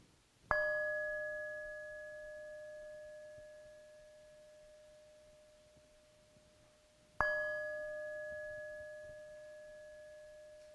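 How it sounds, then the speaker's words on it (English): A worship service opens with a bell struck twice, each ring clear and bright with a long, slowly fading tone in an otherwise quiet room. "as you hear the sound of the bell"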